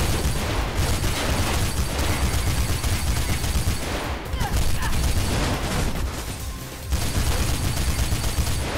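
Dense, loud gunfire from the video game Mirror's Edge fills the passage with rapid bursts and near-continuous shooting, pausing briefly twice, while a voice talks faintly underneath.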